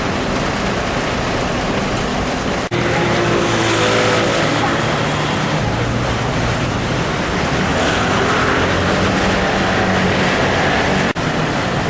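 Mopeds riding through the streets of Taipei's Zhongzheng district, a steady broadband roar of engines and road noise that carries on without a break, with traffic passing close by.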